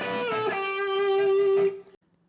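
An electric guitar plays a solo phrase, a single long sustained note held with a slight bend, then cut off abruptly, close and moderately loud, with no voices.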